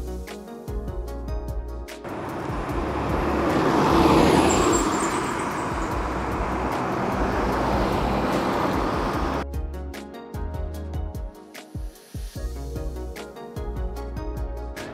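Cars and traffic moving through downtown Newark around 8:30, a steady close roadway roar that swells and fades over about seven seconds, with lighter, choppier engine and road noise around it.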